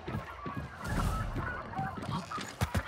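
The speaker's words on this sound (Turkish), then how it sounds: "Tavuklar var solda." Chickens cluck and squawk in the video game Hunt: Showdown, a close, busy flurry of fowl calls over low rumbling, ending with a couple of sharp thuds.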